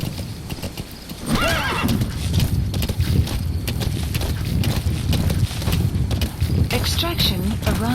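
Hooves clip-clop steadily as a horse gallops in Metal Gear Solid V, with several whinnies breaking through and wind rushing across the mic, all under a speaking voice.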